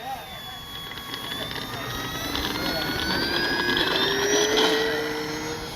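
An FMS Cessna 182 RC plane takes off with its flaps deployed. Its electric motor whines steadily and climbs gradually in pitch as the throttle rises, with a broad airy rush underneath and no talk.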